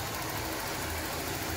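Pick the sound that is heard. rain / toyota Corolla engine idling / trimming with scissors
toyota Corolla engine idling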